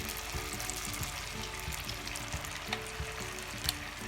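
Battered red claw crayfish fry in oil over low heat, giving a steady, moderate crackling sizzle with small pops, close by and with no voices.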